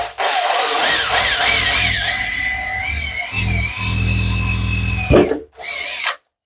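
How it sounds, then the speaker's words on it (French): A power drill bores a small, centered pilot hole in an existing plastic vent outlet while fitting a single-flow ventilation unit in an attic, whining steadily and loud for about five seconds, then briefly revving again after a short pause. "Donc là, juste que je fasse un petit trou de forêt bien centré."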